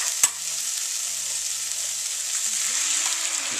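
Tinned chopped tomatoes frying in a pan while pizza sauce is made, a steady bright sizzle throughout, with a sharp clank near the start and faint background hum, no talking.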